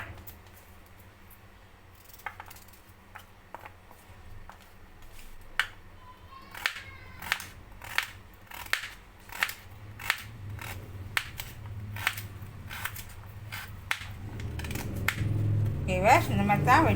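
Knife cutting carrots into small pieces on a board, a series of sharp close chops at an uneven but steady pace, growing denser toward the end, under occasional talking.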